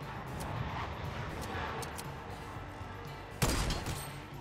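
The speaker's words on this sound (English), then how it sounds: "He's just blind firing." Gunfire in Fortnite Battle Royale from a player blind firing: faint scattered shots over steady background noise, then one louder, closer blast near the end.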